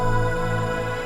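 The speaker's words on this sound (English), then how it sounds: "I'm just going to play a single drone and maybe modify that with a couple of effects" A single steady synth drone from the Europa ambient patch Instrumentality, a dense held tone with many layered overtones, loud and unchanging for about a second.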